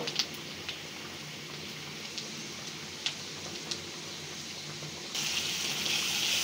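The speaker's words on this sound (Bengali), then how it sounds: "এখন পেঁয়াজ কুচি এবং মরিচ ভালো করে লাল করে ভেজে নিচ্ছি।" Chopped onion and chili frying in oil for a lentil dal bhuna, giving a steady close sizzle like a rushing hiss with a few soft pops, growing louder and brighter toward the end, with no talking.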